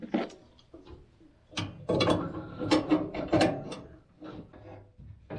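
Screw being tightened on a gas clothes dryer burner assembly, with irregular close metallic clicks, ratcheting turns and scrapes in short bursts between quieter pauses.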